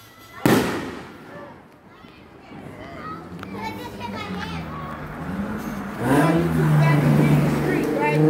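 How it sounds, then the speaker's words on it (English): Fireworks going off outdoors at a street block party: a loud sharp bang early on, then crackling and popping bursts, with children's voices, people talking and a car engine revving nearby. "Comment what y'all think about these fireworks."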